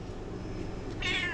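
A single cat meows near the end, a short, fairly close call rising out of quiet room noise with no talking.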